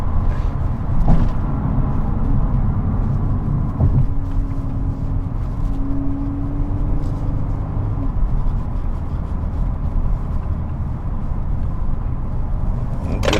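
A 2022 VW Golf R hatchback with DSG gearbox and all-wheel drive, driven hard in race mode along an exit ramp, gives a steady loud engine and road rumble with wind buffeting and a brief rising tone midway.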